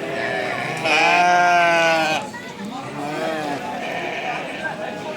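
Loud, wavering bleats from lambs at a livestock market, one long drawn-out cry followed by softer calls, with people talking nearby.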